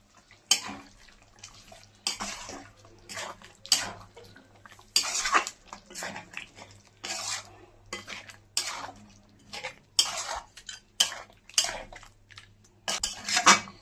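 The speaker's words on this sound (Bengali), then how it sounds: "ধনেপাতা দিয়ে দিচ্ছি, ভালো করে নাড়িয়ে চেড়ে নিচ্ছি।" A spoon scrapes and knocks against a metal pot while stirring chicken with chopped green chilli, fresh cream and coriander, in irregular bursts up close with short pauses between them.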